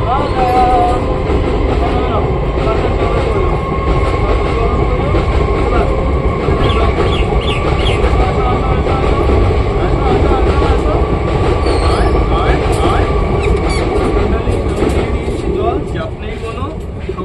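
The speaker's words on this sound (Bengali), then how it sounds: "ট্রেনও চলে এসছে" A train rolls past nearby with a steady, loud rumble and clatter of wheels on rails, with occasional faint squeals, lasting the whole stretch while a person talks over it.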